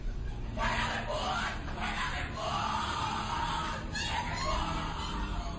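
Indistinct group yelling and screaming at a Skull and Bones secret society initiation ceremony in a muffled, low-quality recording, with bursts of raised voices over constant background noise.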